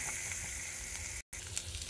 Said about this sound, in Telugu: కొద్దిగా అల్లం పేస్ట్ పచ్చి వాసన పోయేంత వరకు కొద్దిగా ఇలా ఫ్రై చేయాలి